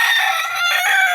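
A rooster crows loudly and close by in a backyard flock of chickens, one bright, strained call filling the brief moment.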